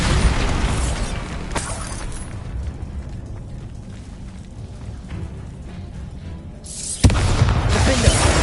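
In Hogwarts Legacy, the Bombarda explosion spell goes off with booming blasts and crumbling debris over continuous game noise, with a sharp burst near the end. No one speaks.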